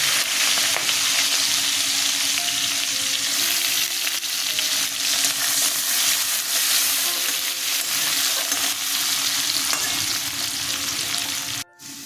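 Onion frying in oil tempered with green chilli gives a loud, continuous hissing sizzle with faint stirring sounds, steady throughout, then a brief dip near the end, with no talking.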